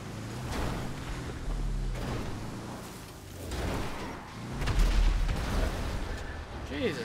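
Rhino tank cannon fire in the GTA Online video game: heavy booming blasts with rumbling low-end bursts, mixed with game noise and a voice talking over the action.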